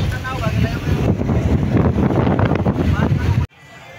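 Strong wind roars across the microphone with boat and water noise underneath, loud and steady, then cuts off abruptly near the end.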